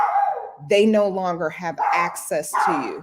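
A dog barks and yips in short bursts close by, overlapping a person talking over the top.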